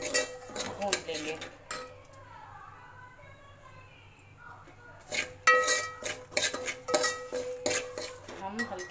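Dalia (broken wheat) being roasted in ghee over a low flame, with a metal spoon clinking and scraping in the pan in close bursts around a quieter pause.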